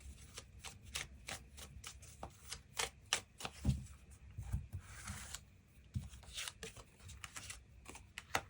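Tarot cards shuffled and drawn by hand during a love-fortune reading, a quick run of crisp riffling flicks and soft slaps, fairly close and moderately loud, with no talking.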